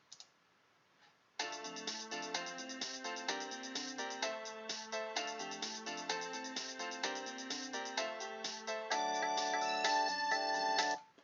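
A melody plays back in MuGen music software as a steady run of bright, plucky synthetic notes, moderately loud and alone, after a brief faint click, growing slightly fuller near the end.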